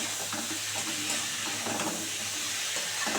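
Spice paste for a loach fish curry fries and sizzles steadily in a pan, a constant hiss with occasional scraping stirs, close and fairly quiet, with no talking.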